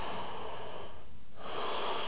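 A deep breath taken during a vinyasa yoga pose, one long audible exhale followed after a short pause by another full breath, close and clear with no talk.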